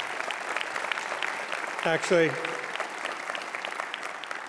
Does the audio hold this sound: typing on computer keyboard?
no